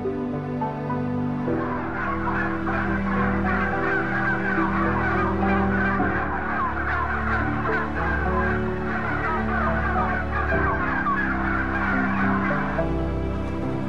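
Thousands of crowded poultry birds in a factory farm building, with 60,000 to 90,000 packed together, make a dense, continuous chorus of clucking and gobbling calls, loud and unbroken, with no speech.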